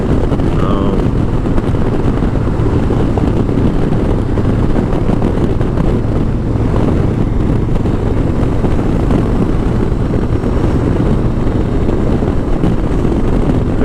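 A 2018 Yamaha Star Eluder motorcycle cruising in sixth gear, its steady engine drone heavily mixed with loud, constant wind rush buffeting the microphone throughout.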